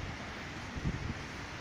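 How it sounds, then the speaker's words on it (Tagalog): Low, faint wind rumbles outdoors after a storm in Batangas, a steady buffeting with a brief gust swelling midway, no voices heard. "hangin lang naman"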